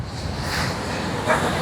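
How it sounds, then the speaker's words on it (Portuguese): Strong cyclone wind sweeps the Rio de Janeiro South Zone seafront, a constant loud roar buffeting the microphone, with rough surf blended into the wash and a slight gust swelling near the end. "o que ele tá achando desse vento todo que tá rolando aqui na orla"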